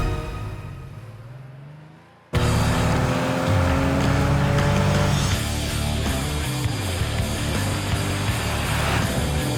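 Porsche 911 (No. 277) engine held on the hand throttle while warming up, loud and steady after a quiet start, with a sustained raised-idle roar that drifts up in pitch.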